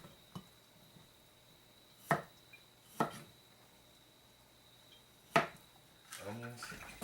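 A knife cutting steamed beets into slices on a board, with a few sparse, quiet thunks spread apart and a voice speaking at the end.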